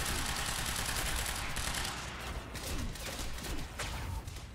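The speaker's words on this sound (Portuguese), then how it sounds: "Essa pistola com rajada até que é boa" Rapid bursts of pistol fire in the action game Quantum Break, a steady, dense crackle of shots at moderate level across the whole stretch, with no talking.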